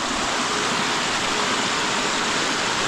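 Kenmere Falls in Tasmania, Australia, heard as a loud, steady broadband roar of falling water, close and unbroken.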